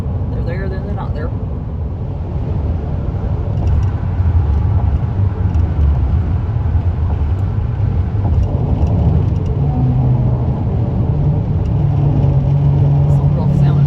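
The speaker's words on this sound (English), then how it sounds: "Some rough sounding road there." A car rumbles steadily over a rough road on a highway travel day, with a low, coarse droning roar of tyre and road noise that stays fairly loud throughout, and a voice is faintly heard early on.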